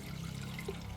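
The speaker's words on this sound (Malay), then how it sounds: "bubuh air 1/2 liter." Half a litre of water poured into a container while preparing a betel-leaf remedy, a steady close trickling splash that runs for about a second with no talk over it.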